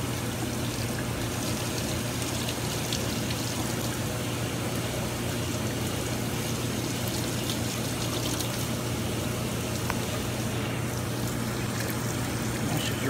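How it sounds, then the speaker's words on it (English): Water steadily running and rinsing dirt out of a diaphragm, a continuous close splashing stream with a low steady hum beneath and no talk. "We're going to wash it out really good."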